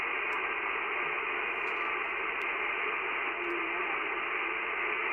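A Yaesu FT-891 transceiver receives with its noise blanker switched on, giving a dense, steady hiss of band static that runs unbroken and fairly loud, with a few faint clicks and no clear voice coming through.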